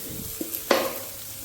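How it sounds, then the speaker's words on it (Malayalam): Coconut oil poured into a hot pan, a brief sharp hiss and crackle rising after a couple of small clinks, short and close with no talking. "അപ്പോൾ നമുക്ക് വെളിച്ചെണ്ണ ഒഴിക്കാം."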